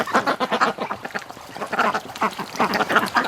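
Female breeding ducks quack loudly and repeatedly in a pen, a close, continuous chorus of raspy overlapping calls with no speech.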